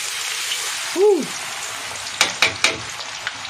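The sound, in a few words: garlic (about 1/4 kilo) frying and splattering in hot oil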